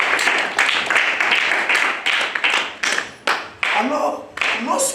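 Church congregation clapping to acclaim Jesus, loud rhythmic handclaps in close succession, with voices rising and mixing in beneath and between the claps.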